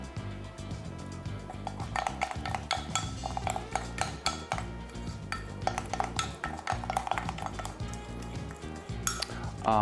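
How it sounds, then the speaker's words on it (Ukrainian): Poppy seed lemon pie batter stirred in a bowl, a quick continuous run of scraping and clinking strokes of a utensil against the bowl, close by and fairly quiet, with no talk. "Ретельно перемішаємо"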